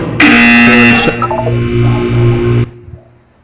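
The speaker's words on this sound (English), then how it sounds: "When you hear the buzzer, look up at the ceiling." A loud, harsh electronic buzzer in Portal 2 blares steadily for about two and a half seconds, then cuts off abruptly, leaving faint background noise.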